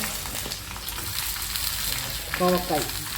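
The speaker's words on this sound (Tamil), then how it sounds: "நல்லா எண்ணெய் காஞ்ச மாதிரி போடுங்க. பூண்டு போடுங்க. பூண்டு கருவேப்பிலை போட்டாச்சு." Garlic and curry leaves fry in hot oil, a dense steady sizzle heard close with light stirring, and a short tonal beep partway through.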